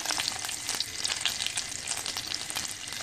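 Butter sizzling and frying in a pan with garlic and chili peppers, a dense continuous crackle and spatter with scraping stir sounds, close and fairly loud, no talking.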